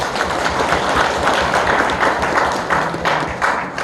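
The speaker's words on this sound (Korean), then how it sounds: "모두 함께 큰 박수 부탁드립니다." Applause from an audience at a political party gathering in Jeju, steady crowd clapping that continues evenly throughout, fairly loud and close.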